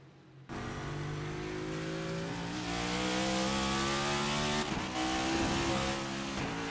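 Race cars accelerating at the start at Watkins Glen in a racing video game, a loud, dense engine roar kicking in suddenly and building as revs climb, with a brief dip before surging again.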